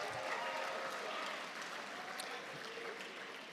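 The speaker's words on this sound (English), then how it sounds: "Give yourselves a round of applause." Graduates and guests applaud at a graduation ceremony, a steady, dense wash of clapping that holds for several seconds at moderate distance, easing slightly toward the end.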